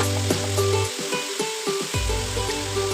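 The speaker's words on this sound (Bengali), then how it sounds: "দেওয়ার পরে একটু ভাজা ভাজা করবো," Meat frying with turmeric in a pan gives a steady, close sizzle, broken by a few scraping stirs in the middle before the bubbling frying surges back louder.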